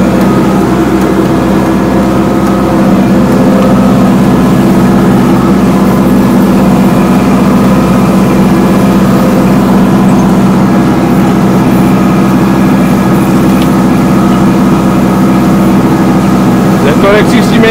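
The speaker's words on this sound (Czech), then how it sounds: "Kula tady zabírá traktor." A heavy diesel tractor engine runs steadily and loud under load while mowing late hay, a deep continuous rumble with no pauses, nearby.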